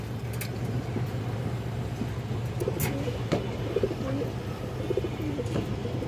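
A pair of Bagha pigeons coo softly amid a steady low hum and faint background clatter, the calls blending into a continuous murmur without clear separation.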